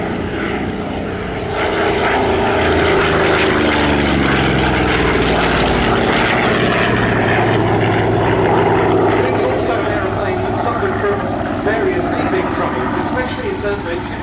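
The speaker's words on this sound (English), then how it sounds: "engine, the Pratt & Whitney R2800 double Wasp, was the most powerful and largest capacity engine of any fighter aircraft at the time" A Vought F4U Corsair fighter with its Pratt & Whitney R-2800 Double Wasp radial engine roars past at an airshow, a loud, steady propeller drone rising and falling in pitch as it passes, with a voice talking over it.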